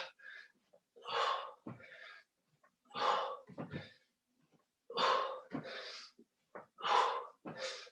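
Heavy rhythmic breathing during a high-intensity interval workout, with strong audible inhales and exhales recurring in bursts about every two seconds, close and fairly loud with no talking.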